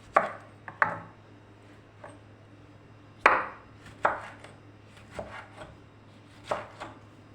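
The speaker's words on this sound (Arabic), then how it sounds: "الطماطم بتاعتنا دي، مقطعينها" Tomatoes being sliced into rings on a cutting board, with a series of sharp, irregular knife chops close by and quiet gaps between them, no talking.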